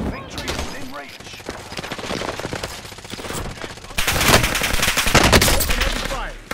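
Heavy automatic gunfire in Call of Duty Warzone Rebirth, rapid bursts crackling close and loud, intensifying into a dense fusillade in the latter half, with in-game voice callouts mixed under the shooting.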